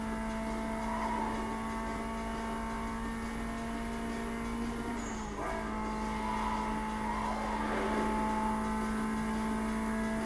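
Engine roar and tire noise from a car driving fast in the video game Need for Speed Most Wanted, a steady sustained drone with a short squeal midway.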